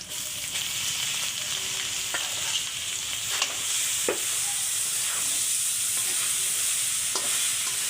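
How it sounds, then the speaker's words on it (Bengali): Chili, onion and garlic fry in a pan as greens are added, a steady loud sizzle broken by repeated scraping strokes of a stirring spoon. "এই যে মরিচ পেঁয়াজ রসুনগুলো ভাজা হয়ে গেছে এখন হচ্ছে শাকগুলো দেবো"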